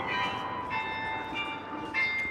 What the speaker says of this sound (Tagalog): May tumutunog na bell dun.